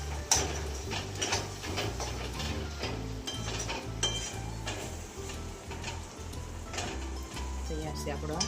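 Spoon or spatula stirring corn chevda with lemon juice in a pan, a steady run of close scraping and clinking strokes over a low continuous hum.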